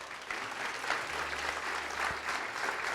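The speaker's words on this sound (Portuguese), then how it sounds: "E vamos aplaudir ao Senhor." A church congregation applauding during a service, a moderate, steady wash of many hands clapping with a faint low hum beneath, continuous across the short span.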